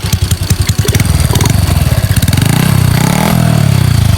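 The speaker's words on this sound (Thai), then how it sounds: "เดี๋ยวเบิ้ลตัดเบิ้ลจักเครื่องรถให้ฟังเนาะ" A motorcycle fitted with an AOM crinkled step-53 exhaust pipe blips its throttle in short repeated bursts, then holds a loud, rough sustained rev close by, with no talk over it.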